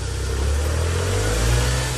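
A Smart City Coupe 2000 engine pulls away in first gear, a steady low mid-pitched hum that rises slightly in revs, close and continuous throughout, with no talking.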